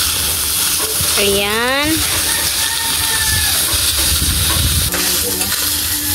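Chicken pastil being stirred in a hot frying pan, with a loud steady sizzle and scraping from the stirring, while a person talks over it.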